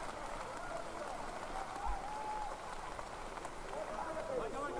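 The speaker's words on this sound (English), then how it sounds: "And the crowd, of course, are loving that." Crowd applause at a Germany versus Italy foil fencing match, a dense, even patter of clapping held at moderate distance throughout, with faint voices underneath.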